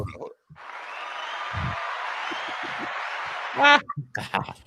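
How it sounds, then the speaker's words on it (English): Crowd applause from a live audience at a comedy show, a steady clapping wash of a few seconds, with speech breaking in at the start and end. "I got an applause"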